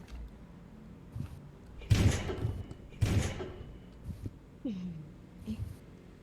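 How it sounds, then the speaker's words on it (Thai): Two loud, booming door slams about a second apart in the Roblox game Thanatophobia, with softer thuds and a faint voice scattered around them. "เสียงปิดประตูอย่างดังเลยกับเสียงปืน"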